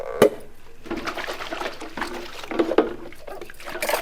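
Water splashes and sloshes inside a kitchen container being rinsed by hand, in short, fairly quiet bursts with soft knocks between them and no talking.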